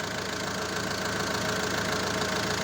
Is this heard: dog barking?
no